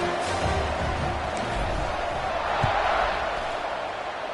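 Football stadium crowd at a college game between Texas State and MTSU, a broad continuous roar of cheering fans before kickoff, steady and loud with a sharp thud partway through.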